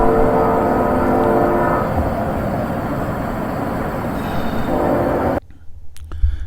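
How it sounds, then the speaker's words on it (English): A train passing near a backhoe repair spot, a loud, steady rumbling roar that holds for several seconds, eases slightly, then cuts off abruptly, leaving faint background sounds. "There's another train there."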